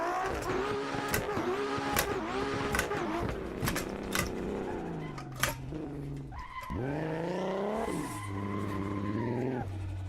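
Formula 4 race car in a racing video game at Virginia International circuit, engine loudly revving and shifting through gears with rising and falling pitch, tyres squealing briefly, steady and close throughout.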